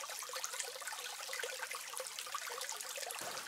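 A small Ariège mountain stream trickles steadily, a soft, even hiss of running water throughout with no voices.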